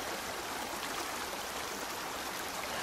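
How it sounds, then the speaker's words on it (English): Water in a stream flows steadily in a constant soft rushing wash, even and unbroken from start to finish, heard alone. "Can you hear the water?"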